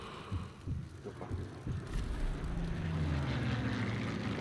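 An airplane flies over in the video game Sniper Elite 3 as a low, throbbing engine rumble that builds and holds steady, with scattered soft thuds early on and no talk.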